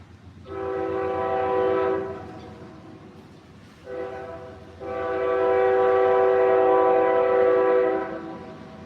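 A passing train sounds two long, loud horn blasts separated by a short gap, the second held for several seconds, over low rumbling rail noise with no talking.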